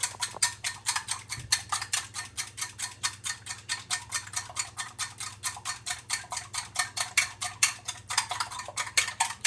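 Eggs whisked briskly in a bowl for scrambled eggs, a steady fast run of close, bright utensil clicks and scrapes against the bowl's side, continuing evenly throughout with a faint low hum beneath and no talking.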